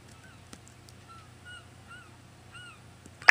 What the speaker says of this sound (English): Oh, I hear seagulls.